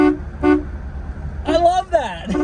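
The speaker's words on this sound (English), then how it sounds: "This has got an actual horn. It's got some power to the horn itself." A 1983 Cadillac Eldorado Touring Coupe horn gives two short toots, then a longer honk follows, close and loud over a running engine.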